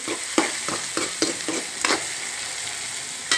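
Chopped onions fry in hot oil for upma, a steady sizzle broken by repeated scraping stir strokes of a spoon in the pan, close and alone with no talk.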